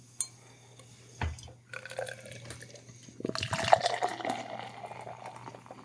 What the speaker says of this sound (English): Hopefully I didn't do too hard of a pour because I think I foamed up pretty good there.